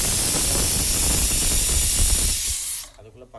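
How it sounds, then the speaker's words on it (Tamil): A pressure cooker vents nearby in a kitchen where oil-fried brinjal and chickpea kuzhambu is being cooked, giving a loud, steady steam hiss that cuts off abruptly near the end. "அதுக்குள்ளே பக்கத்தில் இருக்கிற குக்கர் கத்த ஆரம்பிச்சிச்சு"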